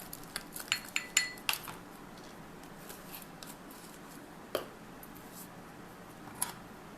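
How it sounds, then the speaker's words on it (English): A spoon stirs powdered sugar and active dry yeast in a bowl, making faint clinks and scrapes, with a small cluster of taps at the start and a few isolated clinks later in an otherwise quiet room. "Just stir it, mix it up very gently."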